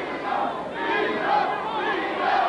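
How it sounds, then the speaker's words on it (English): A boxing crowd at a world middleweight championship bout chants a fighter's name, a rhythmic, roaring chant from many voices that swells and repeats in the background. "Crowd in the background now chanting Vito, Vito"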